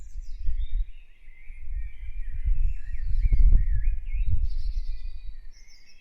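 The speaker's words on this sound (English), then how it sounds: "Sparrows are common visitors to many of our gardens" Sparrows chirp in a garden, thin high twitters running almost continuously over a low, rumbling outdoor background.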